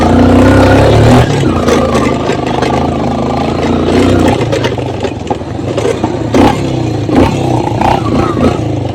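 A motorcycle engine runs during a village ride, a steady low rumble with mechanical clatter and wind rushing throughout, loud and near.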